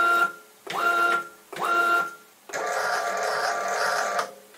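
Stepper motors drive a lathe carriage on an electronic lead screw, whining in two short bursts and then one longer run, each starting and stopping sharply with tonal hum, close up and without talk.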